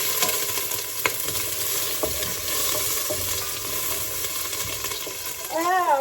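Onions sizzle and crackle in a pan for spicy noodle soup, a steady close frying hiss with occasional clinks and stirring knocks.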